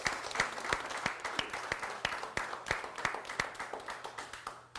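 A crowd at a mayoral candidate's election concession speech gives a round of applause, many hands clapping in a dense, fairly even patter heard from some distance, fading slightly toward the end, with no talking.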